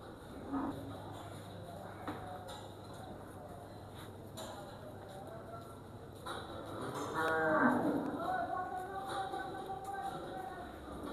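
Cattle for sale ahead of Eid al-Adha moo several times, including a 385 kg cow, long low calls rising into a louder, drawn-out moo near the end, over steady outdoor background noise.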